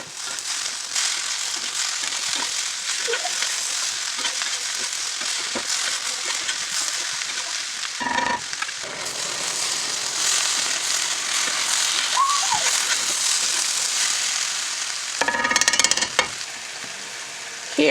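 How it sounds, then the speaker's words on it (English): Chorizo and chopped vegetables for burritos sizzle steadily in a pan while being stirred, with a constant close frying hiss and occasional brief scraping strokes, no talking. "Give it a good mix."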